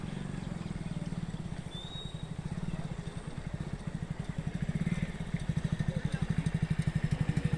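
A motorcycle engine runs nearby in a steady low putter, its pulsing growing slightly stronger toward the end, beside a river mouth in a village, with voices in the background.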